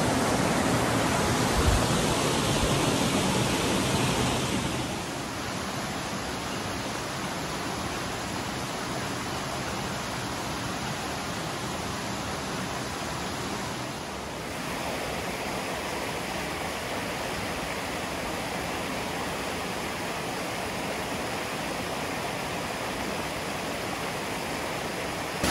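Waterfall among the Akame 48 falls on a mountain trail, a steady broad rush of falling water that stays dense and unbroken, softening a little after a few seconds and then holding even with no voices.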